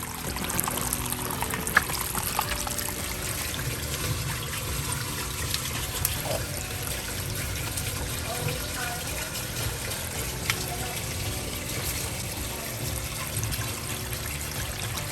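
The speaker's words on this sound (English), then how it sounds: "Where is this water coming from?" Water runs and trickles steadily into a crawlspace beneath a house with a cracked foundation, a constant close splashing flow with no breaks.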